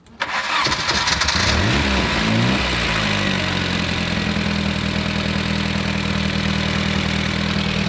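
A carbureted car engine with dual exhaust cranks and catches, revs briefly, then settles into a steady, even idle, close and loud throughout.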